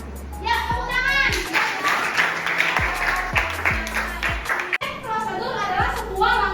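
Children in a primary classroom clap their hands in a quick rhythmic pattern, a series of sharp bursts with short pauses, while kids' voices chatter and call out over and between the claps.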